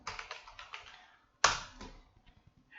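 Quick bursts of clicky key taps on a computer keyboard, a short run of strokes, a brief gap, then a louder press followed by a few scattered taps, close and quiet.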